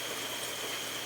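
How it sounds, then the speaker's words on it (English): Steady background rain makes a continuous, even hiss with no breaks or distinct drops, faint and unchanging throughout. "I don't know if you can hear it or not, but got some rain in the background."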